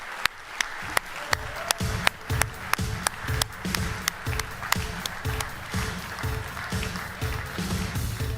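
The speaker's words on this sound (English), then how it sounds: "I hope we have big applause." Clapping at a conference stage event, with sharp, distinct hand claps ringing out in a fairly regular rhythm over a murmuring room, sounding like a smaller group or a few people clapping close by.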